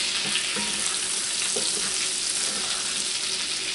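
Butter sizzling in a pan with meat drippings as it is glazed, a dense, steady hiss and crackle throughout with a few faint knocks beneath, no speech.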